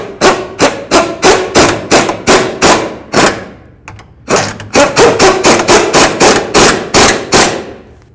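An impact wrench snugs the lower control arm bolts on a 2009-13 Mazda 3, loud close rapid hammering bursts in two runs separated by a short pause.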